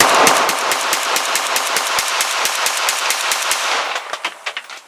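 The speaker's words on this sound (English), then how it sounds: "PM-63 full mag silver bear." A PM-63 machine pistol empties a full magazine in one loud, rapid burst of close shots that ends in a few spaced final reports.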